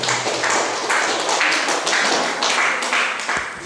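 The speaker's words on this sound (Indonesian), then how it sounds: "tepuk tangan dulu untuk kelompok 5" A class claps for group 5 in a classroom lesson, a brisk, loud patter of many hands in uneven pulses lasting a few seconds before tapering off.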